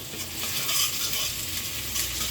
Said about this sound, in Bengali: আমি এখানে পেঁয়াজ রসুনটা বাদামি করে ভেজে নিয়েছি